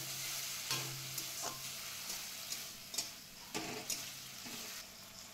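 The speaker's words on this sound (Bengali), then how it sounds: "এবার মশলা বাটি ধোয়া একটু জল দিয়ে দিলাম।" Spice paste with chopped tomato in a pan after a splash of water, for a prawn curry: soft, steady sizzling and bubbling with a few clinks of a stirring spoon, fairly quiet and close, no talking.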